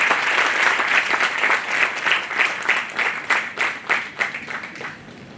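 Audience applause welcoming the chamber president at a women's empowerment session, a loud hall-wide burst of clapping that gradually thins into more distinct rhythmic claps before fading out.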